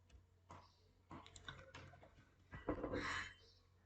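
Clicky keystrokes on a computer keyboard, typed in short irregular bursts with brief pauses, close and fairly quiet, no voices.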